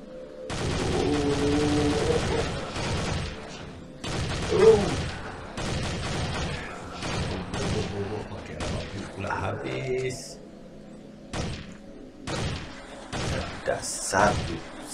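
Rapid bursts of gunfire in the Dead Target zombie shooter game, repeated loud volleys with short gaps and a few heavy booms, mixed with game effects and occasional talk.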